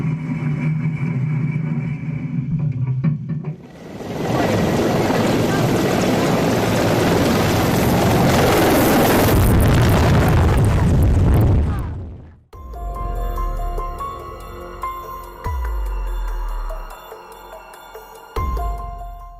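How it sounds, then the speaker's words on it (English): An F-4 ejection seat rocket fires in a ground test: a sudden, loud, sustained roar that lasts about nine seconds after quieter engine hum, then cuts off abruptly into a different humming, mechanical background. "This ground test of an F-4 ejection seat shows the incredible power required to launch a pilot safely away from a failing jet."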